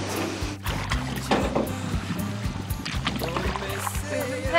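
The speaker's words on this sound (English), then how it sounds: "We've been paddling" A small boat is paddled, with close splashes and knocks of the paddle against the hull and water sloshing in an irregular rhythm, with faint voices in the background.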